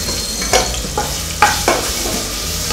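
Ginger and garlic fry in a pan for tomato rice, a close sizzling hiss broken by several sharp stirring scrapes and clatters over about three seconds, with no voices.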